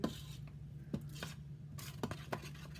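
Cereal being stirred into a pot to make Rice Krispie treats, producing a few soft scraping and clinking strokes spaced irregularly against a steady low kitchen hum, close and fairly quiet.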